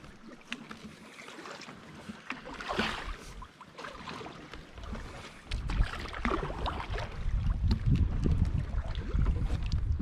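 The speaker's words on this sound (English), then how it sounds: "It's a little breezy." Wind gusting over a rough lake while a canoe is paddled, buffeting the microphone in rising, uneven roars with water sloshing against the hull, growing louder toward the end, no talking.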